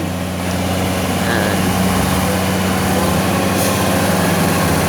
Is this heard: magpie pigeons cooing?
no